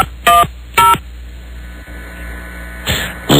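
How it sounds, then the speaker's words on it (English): Telephone DTMF dialing tones on a hotline phone line, three short bright beeps followed by a fourth at the end, with a steady mains hum underneath and no talking. "I was just trying to dial another number from that line."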